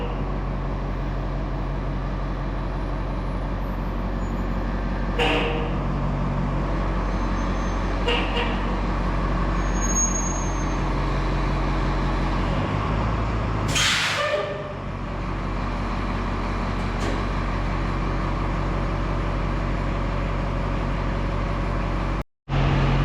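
A boom truck rumbles as it is driven and backed into a shop, a loud steady low engine drone that runs throughout with occasional clanks, ending in a sharp cut.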